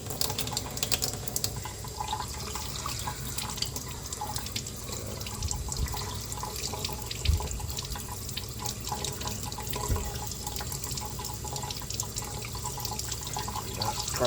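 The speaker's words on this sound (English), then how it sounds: "So we'll see what's happening when we run water through there." Water runs steadily through the cylinder port of an Echo CS-620 chainsaw, a continuous close trickling and splashing with a few small drips, no talking.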